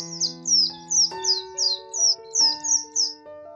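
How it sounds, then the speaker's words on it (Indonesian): Several birds calling back and forth at sunrise, a series of short, bright, downward-sliding calls repeating in a steady rhythm, clear and fairly close, over sustained soft background tones. "Suara-suara burung bersaut-sautan menyambut pagi yang cerah."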